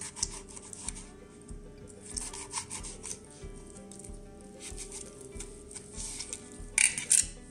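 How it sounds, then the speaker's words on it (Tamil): A knife chops squeezed fruit peel into small pieces on a board, making a steady run of soft, close rubbing and tapping cuts with no talking. "இதை எடுத்து நம்ம சின்ன சின்னதாக கட் பண்ணலாம்"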